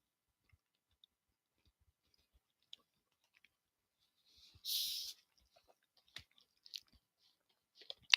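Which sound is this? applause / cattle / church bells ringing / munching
munching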